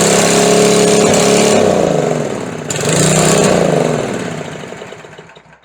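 A small gas engine on a McLane edger, freshly fitted with a new carburetor diaphragm, roars at full throttle, drops briefly, surges again, then winds down and fades out.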